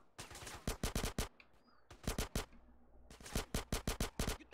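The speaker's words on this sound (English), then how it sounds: "And now I can start killing these guys with AK-47s." Rapid AK-47 automatic gunfire in GTA San Andreas, several short bursts of close, sharp shots with brief pauses between them.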